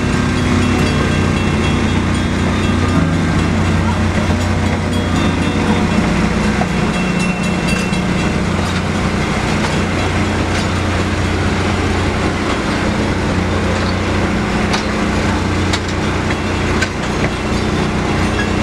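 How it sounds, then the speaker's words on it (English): The Lehigh Gorge Scenic Train rolls into Jim Thorpe Station on the Reading & Northern line. It makes a loud, steady rumble with rail clatter and wheel noise that lasts the whole stretch, with no talking over it. "the Lehigh Gorge Scenic Train makes its way back into Jim Thorpe Station"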